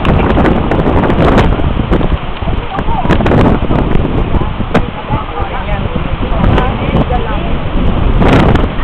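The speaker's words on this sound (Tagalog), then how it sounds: "Lakas ng hangin." Strong wind buffets the microphone steadily at a high dam, a continuous loud roar with gusty surges, while people talk throughout.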